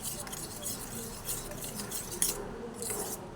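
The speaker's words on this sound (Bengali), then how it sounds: "প্রথমে আমি এই দইটাকে ফেটিয়ে নিচ্ছি দেখুন আমি এইভাবে পাঁচ মিনিট দইটাকে ফেটিয়ে নেব" Yogurt (curd) being beaten by hand in a bowl for a breakfast dish, a soft steady scraping and clinking of utensil against the bowl with a few brighter metallic taps, close and fairly quiet.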